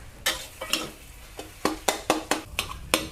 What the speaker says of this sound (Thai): ผัดค่ะ ผัดด้วยไฟ กลางๆค่อนไม่ทางอ่อนนะคะ